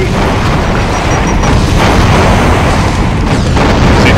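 Rocket explosions in Doom with the Brutal mod during a co-op fight, a loud continuous roar of booming blasts that rumble together without a break.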